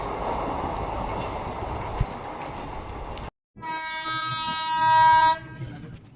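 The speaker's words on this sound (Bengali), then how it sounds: "ভালো স্পিডে আসছে ট্রেনটা" The Rajdhani Express, running on older ICF coaches, rushes through a station at speed in daylight. A loud rumble of wheels comes first, then a brief gap, then a sustained horn blast and clatter.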